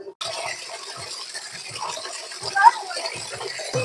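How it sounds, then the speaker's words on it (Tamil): Hot water is poured into a container of cold water to bathe a Persian cat, giving a soft, faint trickle and splash under a voice speaking throughout. "அதனால நான் கொஞ்சம் ஹாட் வாட்டர் மிக்ஸ் பண்றேன்"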